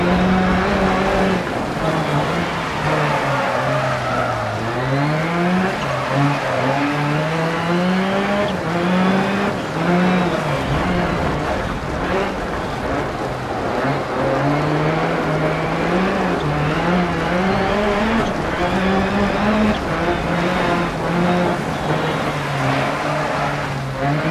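In the DiRT Rally racing game, a Peugeot 208 WRX rallycross car revs hard through gear changes, its engine note climbing and dropping in repeated sweeps, with tyres squealing and skidding on loose surfaces throughout.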